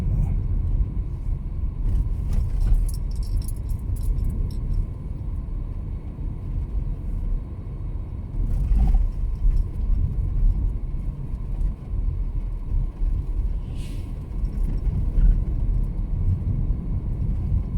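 A car drives along a road around Härmälä in Tampere, Finland, giving a steady low rumble of engine and tyres heard from inside the cabin, constant and fairly loud, with a few faint clicks and no talk.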